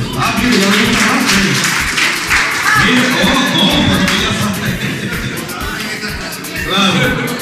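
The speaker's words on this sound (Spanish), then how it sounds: "Un aplauso." Audience applause at a community bicycle handover event, steady crowd clapping mixed with loud overlapping voices and chatter throughout.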